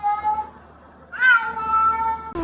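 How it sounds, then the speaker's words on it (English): A kitten gives two clear, close meows, the second higher and longer, against a quiet room, with a brief thump at the end. "Let me hear a meow."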